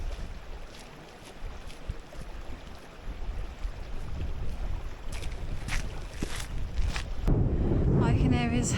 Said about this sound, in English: All you can hear is the little stream and the wind.